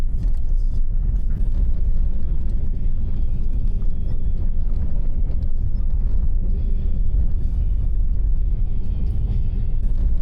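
A car drives across the Turkmenistan desert in the heat, heard from inside as a steady low engine and road rumble with constant wind buffeting and no clear voices.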